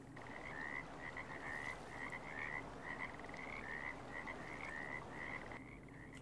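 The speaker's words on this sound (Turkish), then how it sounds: "Kurbağa sesleri" Repeated frog croaks from the video game Russian Fishing 4, in a steady rhythmic chorus, clear and continuous over a soft ambient background.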